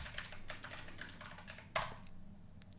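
Quick, steady keystrokes on a computer keyboard as an administrator password is entered on a Linux system, a run of light clicks ending in a sharper key press, then quiet.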